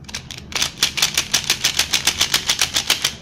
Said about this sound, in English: This cube is super clicky.